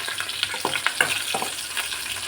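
Green chilies, cumin seeds and coriander seeds crackle in hot oil, with a steady sizzle broken by sharp spitting pops through the short stretch, fairly close and alone.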